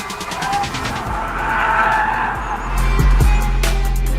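A front-engine, rear-wheel-drive diesel car slides through a skid at a driving event, with loud engine roar and sustained tire squeal rising toward the end, plus a couple of sharp thumps near the close.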